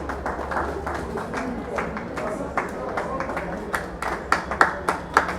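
Scattered hand claps at a press conference start sparse and grow louder and more frequent toward the end, with people talking over them.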